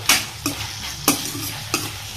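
Tomato frying in a pan for a brinjal curry masala, with loud scraping stir strokes roughly every half second over a continuous sizzle, close and without talk.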